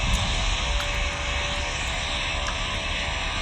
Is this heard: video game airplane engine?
yes